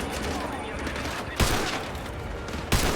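Rapid automatic gunfire from a weapon in Call of Duty Modern Warfare 2 Remastered, a steady close burst with two sharper heavy impacts standing out, loud throughout.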